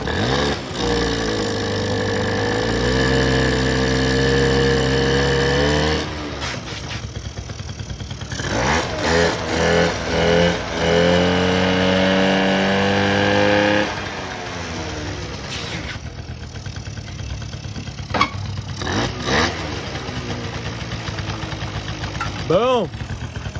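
A 1984 Honda Aero 50 scooter with a freshly rebuilt carburetor starts and runs, its small engine buzzing and revving unevenly up and down at close range, then settling into a steady idle while someone talks over it.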